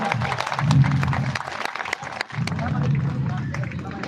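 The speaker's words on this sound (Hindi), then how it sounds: "हमारे पंदापुचा के द्वारा जोरदार तालियों से दादा का स्वागत किया जाएगा" An outdoor crowd at a rally in Hariharpur claps and cheers to welcome a speaker, with dense applause mixed with crowd noise and a brief dip partway through.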